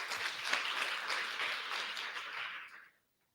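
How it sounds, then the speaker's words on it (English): Participants at a digital skills training session give a round of applause for moms, a soft, steady patter of clapping that stops abruptly near the end. "Let's give moms a round of applause."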